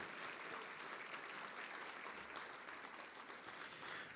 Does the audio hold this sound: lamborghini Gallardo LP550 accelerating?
no